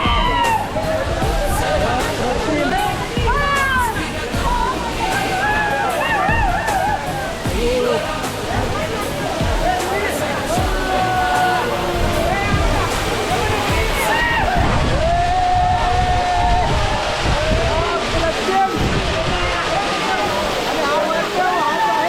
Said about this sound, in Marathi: हे पहा जी धार पडते आहे तो वॉटरफॉल आहे आणि प्रचंड गर्दी आहे.